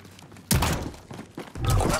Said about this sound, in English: He almost got squashed by two loadouts.